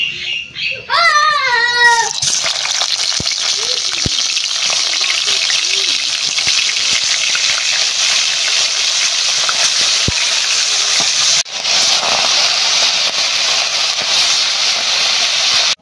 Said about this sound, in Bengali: এবার মাছটা ভেজে নিই